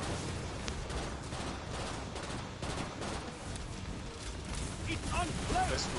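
Dense, sustained gunfire from a gun in the video game Killing Floor 2, rapid overlapping shots filling the whole stretch at steady loudness, with a few faint game sounds near the end.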